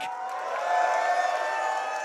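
A tournament crowd at a Guilty Gear Strive top 8 event cheers and whoops, a steady roar of many voices rising in the middle and holding, with a faint tone ringing through it.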